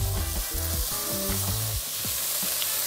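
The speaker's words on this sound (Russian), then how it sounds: "Когда лучок прижарился, добавляем остальные овощи, ну, то бишь кабачок и морковку. И минут 5 обжариваем вместе." Onion, zucchini and carrot fry in a pot with a loud, steady sizzle, while stirring clatters through it in irregular scrapes and knocks; no one speaks.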